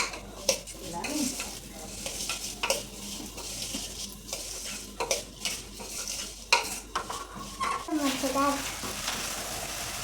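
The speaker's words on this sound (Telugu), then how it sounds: "నువ్వు వెయ్యి కిస్మిస్ బాదం వేయించుకోవాలి ఫస్ట్" Raisins and almonds frying in a pan, with a close, busy sizzle broken by repeated spoon scrapes and clinks against the metal, and a voice murmuring in the background.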